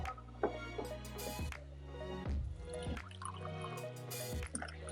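Coffee pours from a Clever Dripper into a cup, a faint liquid trickle with a few drips and clinks against a quiet room.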